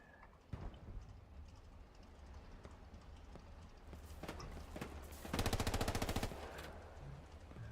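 Distant automatic gunfire in Hell Let Loose, a World War II shooter, crackling in scattered bursts and building to a sustained rattling volley before tapering off; no talking.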